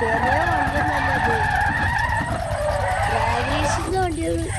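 A car races in the No Limit 2 driving game, its engine droning loudly and steadily while sharp tire squeals and skids rise and fall throughout.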